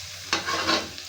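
Garlic, onion and tomato sautéing in a pan for a lunch dish of fried tilapia, with a sharp burst of sizzling and stirring that settles into a steady crackle, close and fairly loud, no talking.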